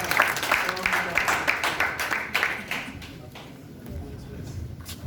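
An audience claps in a burst of applause at a French-language motivational talk. The clapping is dense and fairly loud for about three seconds, then thins out under a speaking voice.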